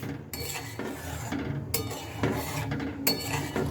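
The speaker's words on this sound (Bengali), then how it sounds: "এবার চিনি দিয়ে আবারও একটু ভালোভাবে আমি নেড়ে ছেড়ে নেব" A spoon stirs carrot pitha batter with sugar in a pot, scraping and clinking against the sides in several irregular strokes, close up and fairly loud with no voices.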